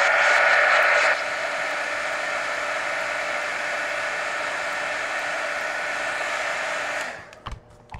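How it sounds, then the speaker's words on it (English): Heat gun drying wet paint on a mixed-media art journal page, a steady loud blowing whoosh with a stronger burst at the start, running evenly before being switched off and winding down near the end. "Now let me hit it with the heat gun"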